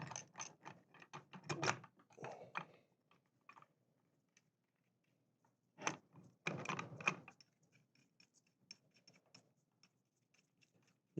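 Screws being tightened on a holder for a Bosch injector pump, faint close clicking and ratcheting in short irregular bursts, separated by long near-silent gaps.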